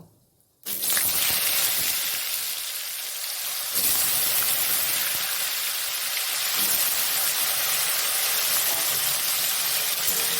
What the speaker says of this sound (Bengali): আলুটা একটু ভাজা করে নেব।